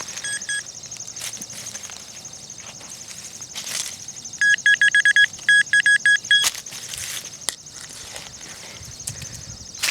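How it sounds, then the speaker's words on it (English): Outdoors at an abandoned house, an alarm system gives off repeated high electronic beeps, first in short bursts and then in rapid clustered pulses, over a constant whine and scattered clanks and rustles nearby. "That alarm system thingy or whatever it is enough to drive anyone bonkers."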